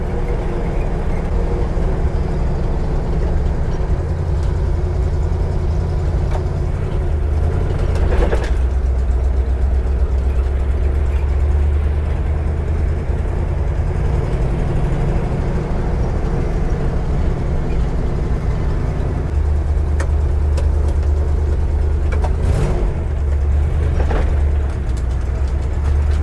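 A steady low engine rumble from inside a moving all-original 1968 Ford Bronco, with road noise and a few rattles and bumps along the way.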